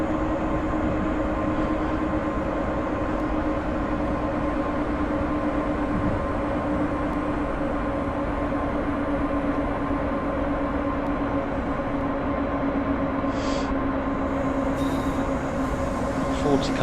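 An OBB 1044 electric locomotive in Train Simulator 2016 gives a constant loud rolling drone with a steady motor whine. Faint rail clicks come through near the end.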